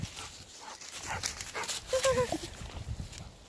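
A hound dog bays and barks a few times at a distance, the calls rising and wavering over faint outdoor background noise.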